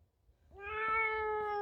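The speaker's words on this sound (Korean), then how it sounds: "아 고양이 너무 쉽죠?" A single drawn-out cat meow, clear and close, rising after a brief quiet start and holding steady to the end.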